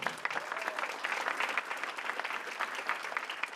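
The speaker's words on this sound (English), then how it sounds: "You are so excited to clap, I love it" Audience at a chamber scholars breakfast claps steadily for event sponsors, a dense, moderately distant patter of many hands that holds for several seconds without talk.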